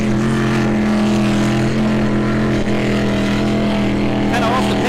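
A racing powerboat at Englewood Beach Waterfest roars past with a loud, steady, droning engine tone that holds strong throughout. A commentator talks over it.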